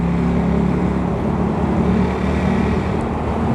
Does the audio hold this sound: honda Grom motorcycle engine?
yes